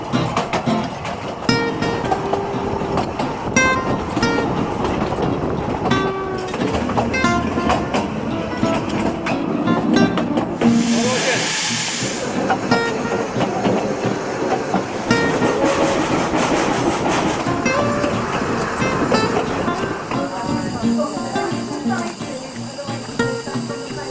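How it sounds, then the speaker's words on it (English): A Brecon Railway train rolls along the track at about 14 miles an hour, with steady rhythmic clickety-clack, rumbling carriages and a brief hiss, close and loud, while people talk over it at times. "Brecon Railway, going at the grand speed of 14 miles an hour."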